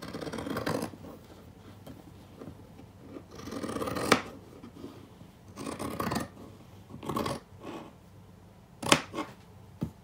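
Scissors snipping through a T-shirt to cut it into even strips, a series of separate close crisp cuts with quiet pauses in between.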